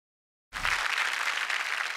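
A studio audience at a TV comedy show breaks into applause for a journalist, and the clapping starts suddenly after a moment of silence and stays loud and steady.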